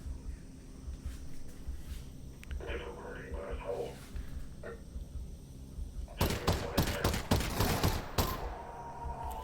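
Gunfire in Half-Life: Alyx, a few sporadic shots and mechanical clicks early on, then a loud cluster of rapid shots near the end over steady game ambience, with no voice in the mix.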